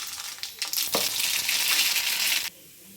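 Half a spoon of mustard seeds hits hot oil in a pan for carrot-chili sambharo, bursting into a loud, dense crackling sizzle that holds for about two seconds and then cuts off abruptly.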